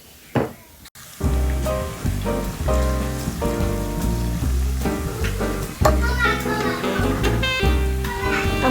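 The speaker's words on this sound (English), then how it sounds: "I'm going to allow this to fry for at least just a minute" Chopped onions fry in hot palm oil for a Nigerian beans dish, giving a loud, steady sizzle that runs the whole time beneath a continuous tonal background.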